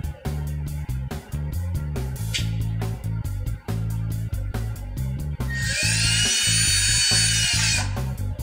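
A power tool tightens a hose clamp on the main intake tube of an MFC Offroad closed-loop snorkel. A high, steady whine runs for a couple of seconds over rhythmic background music.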